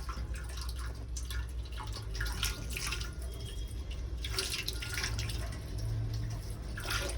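Hot water pours steadily from a tap, a continuous rushing splash with dripping that runs unbroken at an even level throughout.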